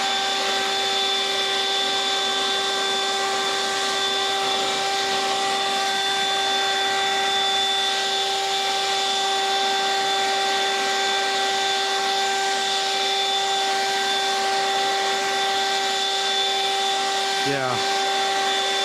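A Toro 120 MPH cordless leaf blower running on turbo outdoors gives a loud, steady, high whining drone that holds unbroken throughout, with a brief shift in pitch near the end.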